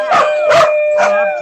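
A dog gives three short, yelping barks close by, each with a slightly howling, tonal quality.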